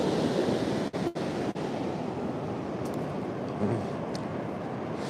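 Ocean waves breaking on a surf beach, a continuous broad wash of surf with a heavier swell building, steady and fairly loud, with a few brief wind buffets on the microphone.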